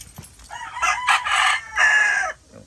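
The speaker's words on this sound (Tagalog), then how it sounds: "Napakagandang manok." A backyard-bred rooster, a gold-and-red fighting-type bird, crows once, loud and close. The call is a single drawn-out cock-a-doodle-doo lasting about two seconds.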